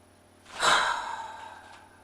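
Single deep breath during a slow energy-gathering breathing exercise, rising suddenly to an airy rush and then easing off over about a second and a half, heard alone and close.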